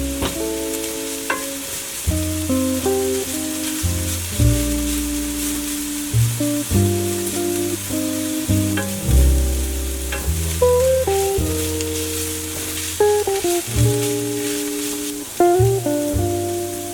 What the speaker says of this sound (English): Toss those peppers in. Stir it up. We don't want anything sticking to the bottom.